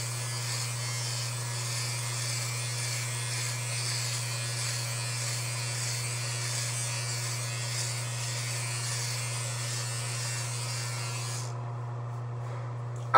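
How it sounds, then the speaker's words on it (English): An electric razor shaving legs buzzes with a steady, close drone that holds without a break for most of the stretch, then stops abruptly near the end. "I just finished shaving my legs."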